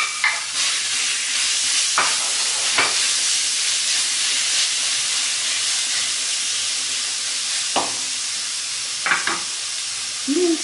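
Meat and onion fry in fat in a saucepan, a constant loud sizzle and hiss broken by a few sharp scrapes as a utensil stirs them.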